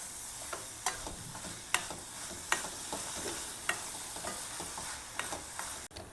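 Coconut filling for sweet steamed elai appam stirred in a hot pan, with steady scraping and soft sizzling broken by sharp spoon knocks against the pan at irregular intervals, close and fairly loud, no voices.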